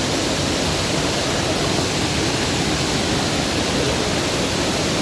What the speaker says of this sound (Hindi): आप देख सकते हैं कितना खतरनाक यहाँ पे झरना का जो रफ्तार है